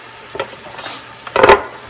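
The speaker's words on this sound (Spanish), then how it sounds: "Y vamos a menear." A mixture laced with sweet cooking rice wine is stirred in a pan for a dumpling and cabbage dish, giving a few brief scraping, sizzling strokes, the loudest burst near the end, with no talking.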